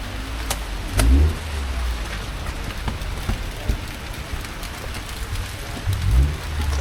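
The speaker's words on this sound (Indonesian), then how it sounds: "Masih hujan ya guys, jadinya ribet." Rain falls steadily at a busy outdoor market in Tasikmalaya, Indonesia, a constant soft hiss with a couple of low passing vehicle rumbles, no talk over it.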